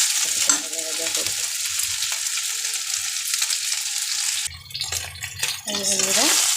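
Chicken fries in oil for a butter chicken dish, a steady close sizzle broken by stirring and utensil scrapes against the pan, which grow louder and busier in the last couple of seconds.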